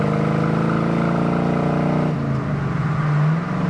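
A 1978 Pontiac Trans Am with a 400 engine and manual clutch accelerates on a test drive, its engine note rising loudly, then dropping as a gear changes and climbing again.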